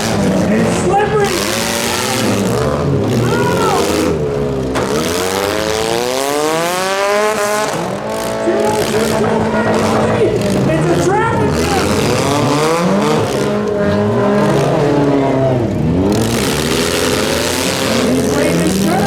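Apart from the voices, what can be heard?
demolition derby cars racing on a figure 8 track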